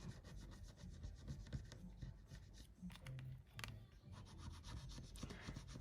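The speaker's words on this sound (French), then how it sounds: "C'est des petites pastilles à gratter" Steady dry rubbing and rasping of a coin or fingernail scratching off small scratch-off stickers in a savings challenge booklet, continuous and close throughout, with no talking.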